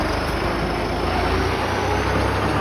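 Large farm tractor engine running while carrying rice deliveries through a flooded area, a loud, steady close diesel rumble that stays unbroken for the short stretch with no talking.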